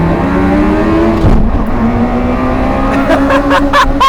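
A two-engine invalid carriage microcar putters along at low speed near 22 km/h, its small engines droning steadily up close, with a few sharp clicks near the end and a voice briefly speaking over it.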